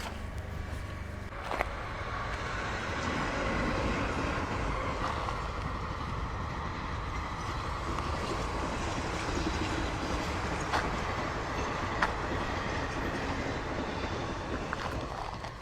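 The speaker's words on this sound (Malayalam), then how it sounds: "ഈ ട്രെയിന് ഗുരുവായൂർ ടു ചെന്നൈ പോകുന്ന വണ്ടി" Guruvayur to Chennai train running along a railway line through a plantation, a steady rumbling roar with wheel clatter and a few sharp clacks, buffeted by wind on the microphone.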